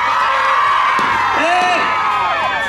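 Outdoor concert crowd at a temple festival procession in Tainan cheering and whooping loudly on cue, a continuous mass of shouts with rising individual yells over a steady roar.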